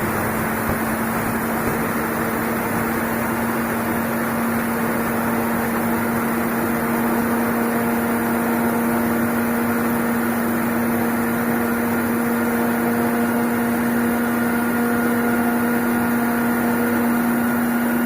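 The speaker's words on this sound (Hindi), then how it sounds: "मिक्सर में क्रश कर लेंगे।" A steady electric motor whirs with a constant hum throughout, a mixer grinder crushing spices for buttermilk masala at close range, with no pauses or voices.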